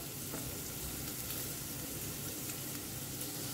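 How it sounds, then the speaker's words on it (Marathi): Onions, curry leaves and green chili frying in hot oil in a Goan home kitchen, giving a steady, close sizzle throughout with no talk. "सो कांदे न्ही हांवें बरें फ्राय करून घेतला."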